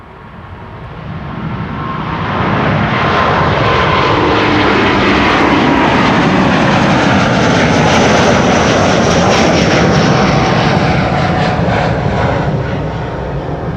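A Delta Airlines jet departs Schiphol's runway 24, a loud broadband jet roar that swells within two seconds and holds steady close by for the rest of the run, fading only slightly at the end.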